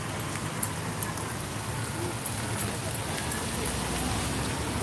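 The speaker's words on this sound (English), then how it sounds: "It's raining." Steady rain falls outdoors in a broad, even hiss with a few sharper drop taps near the start, continuous and moderately loud throughout.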